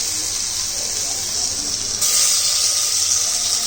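Tomatoes tipped into a hot pan of frying onions, a steady loud hissing sizzle that jumps louder and brighter midway as the tomatoes hit the oil.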